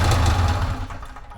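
A cheap used snowmobile engine with a new stator splutters briefly on a first pull-start attempt, a loud, close, rough low rumble that fades within about a second.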